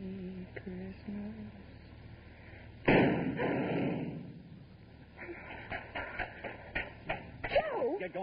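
A single sharp gunshot cracks out at close range in a car during a holdup, a loud sudden burst that decays over about a second, with people talking before and after.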